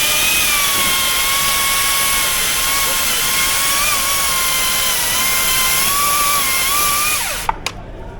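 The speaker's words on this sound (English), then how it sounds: "we got a user that's going to be using the Makita saw here" A Makita 40-volt top-handle chainsaw runs at a trade expo with a loud, steady high-pitched electric whine that holds for about seven seconds before winding down and stopping.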